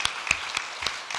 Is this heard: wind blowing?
no